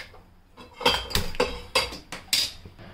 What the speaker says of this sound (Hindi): यहाँ सबसे पहले मैं कढ़ाई चढ़ा देती हूँ गैस पे।